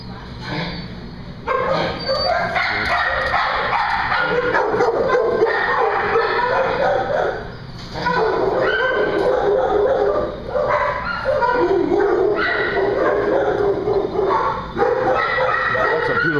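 Puppies bark and yip over and over in a busy, excited cluster, with whimpers mixed in, close by.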